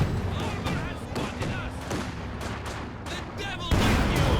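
Dense, continuous gunfire and explosions from an attack-ground order in the strategy game Company of Heroes 2, rattling and booming loudly throughout, with a heavier burst near the end and voices faintly mixed in.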